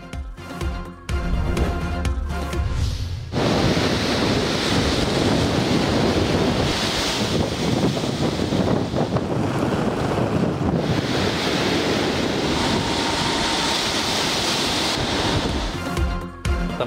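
Storm-driven waves crash and surge along the Sindh coastline near Karachi, a loud continuous roar of surf mixed with gusting wind buffeting the microphone, swelling and easing in long rushes with no voices.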